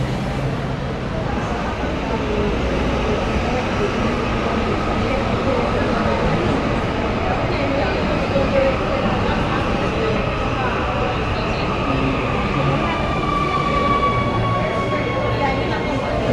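Medellín metro train running: a continuous loud rumble and rail roar heard from inside the car, with a rising whine later on and faint voices in the background.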